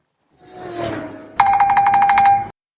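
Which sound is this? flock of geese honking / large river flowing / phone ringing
phone ringing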